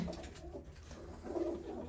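Soft, low pigeon cooing repeats through the whole stretch, a steady murmuring with a fuller burst toward the end; no voices.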